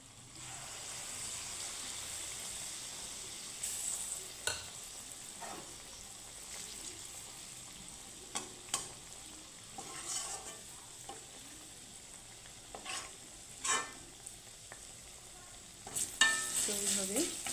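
Jackfruit malpua batter fries in hot oil with a quiet, steady sizzle, broken by occasional light clinks and scrapes of a ladle, growing busier near the end.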